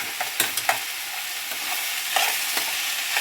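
Grated coconut frying in a pan while being stirred, soft sizzle with a few scraping knocks of the spoon, close and moderately loud.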